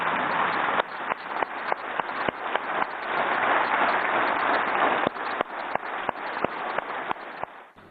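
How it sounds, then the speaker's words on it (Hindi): Members of parliament stand and applaud together, a dense sustained clapping heard over a narrow broadcast feed, with sharp individual claps poking out throughout. "मैं चाहूंगा कि सदन एक बार खड़ा होकर तालियां बजाकर उनका अभिवादन करे"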